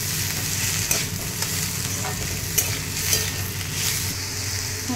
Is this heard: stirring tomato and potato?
yes